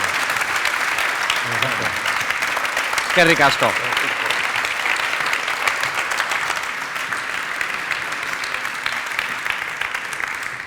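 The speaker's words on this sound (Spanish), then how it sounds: "lo han hecho muy bien. Un aplauso, por favor." An audience at an anniversary event for the Basque rail infrastructure agency claps steadily throughout, with a brief spoken exclamation and some voices partly heard over the ongoing applause.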